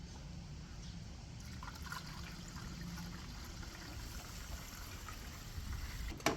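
Coolant trickling into the reservoir of a 2015 Chevrolet Camaro LT RS, a faint, steady liquid pour heard close, ending in a brief louder clunk.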